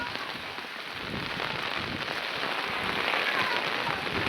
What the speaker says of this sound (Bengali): প্রচন্ড বৃষ্টি পড়ছে মায়ের ঘট বিসর্জনে